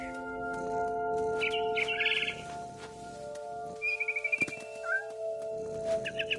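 A cat meows and yowls in a few drawn-out cries, with brief bird chirps and a steady musical hum underneath, in the video game What Remains of Edith Finch.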